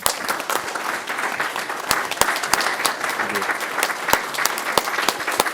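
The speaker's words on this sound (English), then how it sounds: "you can stand and give a round of applause for that" An audience at a city council meeting claps steadily for several seconds, with crisp individual claps standing out against a dense, even wash of applause.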